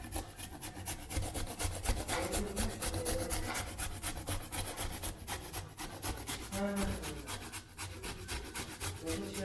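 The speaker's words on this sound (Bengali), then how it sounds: "সৌরভ গাজর ছিলছে" Carrots being peeled for carrot halwa make a close, rhythmic rasping scrape, repeated in quick strokes with a faint voice now and then in the background.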